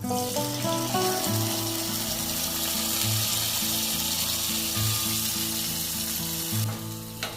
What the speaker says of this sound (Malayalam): നമുക്ക് അടുത്തത് മുന്തിരി വറുത്ത് കോരാം